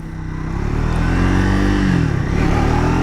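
A 2025 Triumph Thruxton 400 motorcycle engine, loud and close, revving upward through the gears with pitch climbing, a brief dip at a shift, then pulling hard again.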